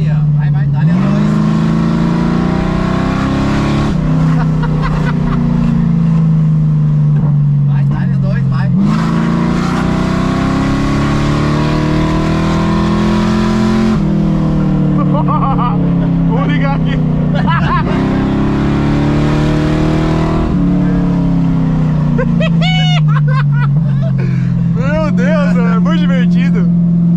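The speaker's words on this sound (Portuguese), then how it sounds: "aí agora tu vai brincando no acelerador daí" A Chevrolet Chevette fitted with a V8 engine revs hard in second gear. The loud engine note surges and falls repeatedly in long pulls, with people talking over it in the car.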